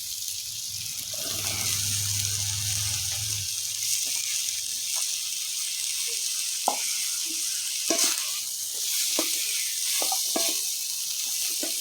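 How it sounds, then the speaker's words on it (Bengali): Ridge gourd pieces go into a pan of sizzling curry with a brief low thump, then steady frying hiss continues with scattered scraping and stirring clicks, close and moderately loud. "এখন আমি ঝিঙাগুলি দিয়ে দেবো।"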